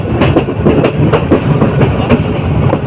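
Titas Commuter train number 35 running through Ghorashal railway station, loud and close, with rhythmic clickety-clack wheel beats over the rail joints and a steady rumble underneath, no voices.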